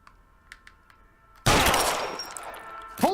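One loud gunshot cracks in L.A. Noire, breaking a quiet scene of faint clicks and then trailing off in a long reverberant decay, with a brief sharper sound right at the end.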